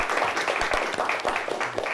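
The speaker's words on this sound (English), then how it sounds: "Let's give them both a nice big round of applause." A studio audience applauds two high school teams at the end of a televised quiz show game. The clapping is short and moderately loud, made of scattered overlapping claps that blend into a dense, continuous patter.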